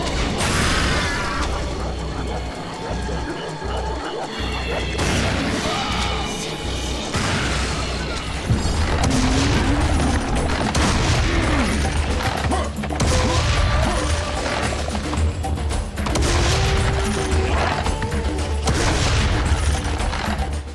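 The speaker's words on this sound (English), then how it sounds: "This absolute unit of a super shotgun." A massive super shotgun blasting in the shooter Serious Sam, loud booming shots mixed with mechanical reloading clacks and constant chaotic combat noise throughout.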